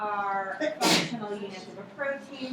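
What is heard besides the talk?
sneeze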